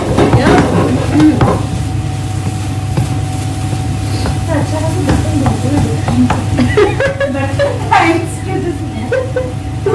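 Masala stirred and frying in a pan in a home kitchen, with steady sizzling and scraping stir strokes throughout, plus clinks of utensils, close and fairly loud, with a voice talking over it.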